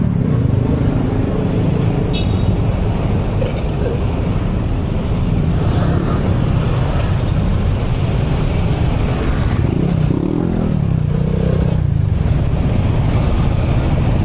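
Cars drive past continuously on a busy street in Angeles City, Philippines, a loud, steady traffic roar with engines passing close by, and no talk over it.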